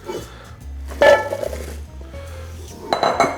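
Chopped purple Brussels sprouts tossed in a bowl, giving a few close clinks and rattles of utensils against the dish, with a louder burst near the start and another toward the end.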